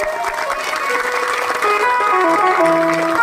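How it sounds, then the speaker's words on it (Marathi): A crowd claps loudly and steadily at a devotional tuladan ceremony honouring a Maharaj, the dense applause running throughout alongside sustained musical tones. "सर्वांनी टाळ्या वाजवा जोरात"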